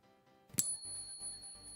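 A single bright metallic ping from a silver coin rings out and sustains with a clear high tone, fading slowly amid faint handling noises.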